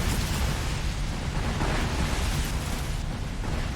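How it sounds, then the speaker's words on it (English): Missiles are blasted apart by point-defense fire in a space battle video game, heard as a dense, continuous rumble of overlapping explosions and bursts, loud and steady throughout with no voices. "Some of these missiles being shot down by point defense"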